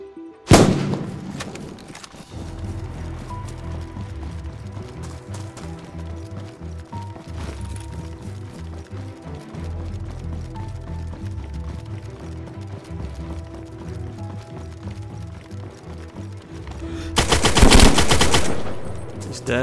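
Gunfire in the survival game DayZ: a short sharp crack near the start, then a steady rhythmic patter of footsteps or hoofbeats, with a loud dense burst of shots near the end.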